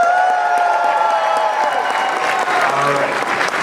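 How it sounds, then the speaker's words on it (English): A large theme-park audience at a special effects show at Universal Studios Hollywood cheers and applauds, a dense, sustained wash of clapping and whoops that stays loud throughout, with a few raised voices in the crowd. "Let's hear that cheer one more time."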